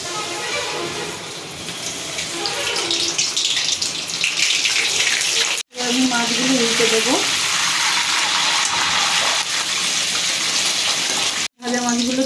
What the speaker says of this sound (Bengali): দিয়ে দিচ্ছি সর্ষের তেল তেলটা একটু গরম হতে দেবো মাছগুলো এবার ভেজে নেবো